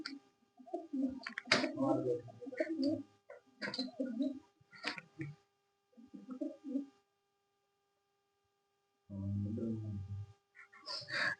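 Pigeons kept as a hobby cooing nearby in bursts of soft, throaty calls separated by short silences, with a voice talking among them.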